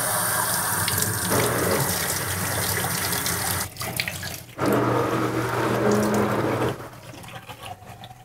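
Tap water runs steadily into a sink as a Hoover carpet shampooer filter is rinsed, a continuous close splashing that briefly cuts out, surges back, then thins near the end.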